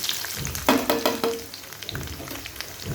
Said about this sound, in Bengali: ওখানে পেঁয়াজটা ভাজা হচ্ছে